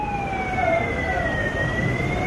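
A loud emergency siren wails steadily during a public speech by Annamalai, one long sweeping tone gliding slowly in pitch over a rumbling crowd and outdoor noise.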